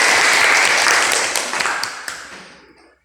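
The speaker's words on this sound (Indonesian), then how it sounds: "berikan aplaus untuk kita semua" Students in a classroom break into a burst of applause, dense clapping that starts loud and thins out, fading to silence after about three seconds.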